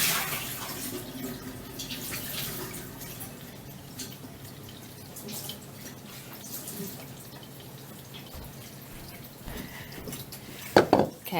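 Water is tipped out of a French press used for washing cloth pads, a steady close trickle and splash with drips, ending in a louder gurgling pour and clatter near the end.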